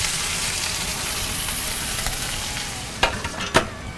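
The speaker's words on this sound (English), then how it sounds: "I'm going to give this bacon a flip. And we'll let this keep right on cooking until it's nice and crispy." Bacon sizzles steadily in a hot pan, a dense crackle and hiss throughout, with a couple of louder pops and scrapes as it is flipped near the end.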